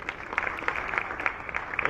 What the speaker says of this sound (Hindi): ताली बजाओ भैया रघुवीर भैया के लिए।